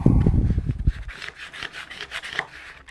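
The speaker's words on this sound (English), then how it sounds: "Quick squeegee." A squeegee rubs outdoor sign vinyl down onto a surface, a few close scraping, rasping strokes after a brief low thump at the start, fairly quiet throughout.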